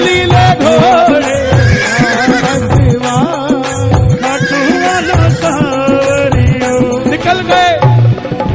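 Horse neighing and hoof sounds woven into a loud, continuous devotional song with dense music throughout, the whinnies recurring among the instruments rather than standing alone.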